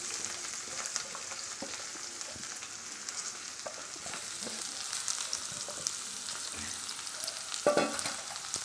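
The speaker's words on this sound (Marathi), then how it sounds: "आपल्याला ही आता भेंडी भाजत राहायचं आहे। एक 10 ते 15 मिनिटं आपल्याला हे असं हलवत राहायचं आहे।" Okra coated in gram flour mix sizzles and fries in a pan while being stirred and roasted, a steady close crackle with soft scraping stir strokes and a brief louder clatter near the end, no talking.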